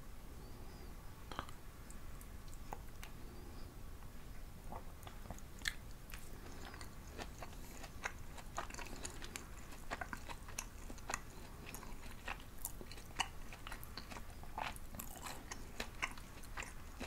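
Close, quiet chewing of Jeju black pork jeyuk bokkeum wrapped in fresh lettuce, with crisp crunchy bites and wet mouth clicks repeating steadily and no talking.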